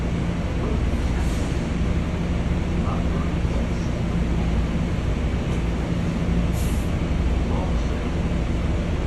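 A Metro-North M7 commuter train on the Harlem line, northbound out of Yankees–East 153rd Street, rumbles steadily from inside the car with a constant broadband roar and low hum, and a voice is faintly present.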